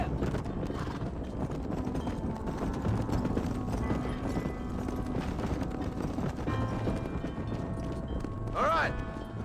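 A horse gallops in the Western video game Red Dead Redemption, its hooves drumming in a steady clip-clop rhythm under game ambience and a voice, with a brief sharp cry near the end.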